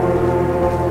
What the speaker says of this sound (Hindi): ये वही चार्ल्स की आवाज़ है भाई, ये ट्रेन